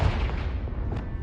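A Confringo fire-blast spell explodes in Hogwarts Legacy, a single deep boom that rolls on briefly with a dull, rumbling tail.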